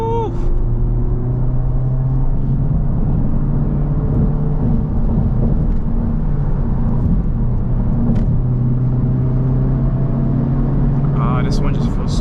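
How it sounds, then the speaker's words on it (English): A 2024 Honda Civic Type R (FL5, front-wheel drive) engine hums and revs steadily up close, a continuous loud drone with rising pitch near the end. "I love the auto revs"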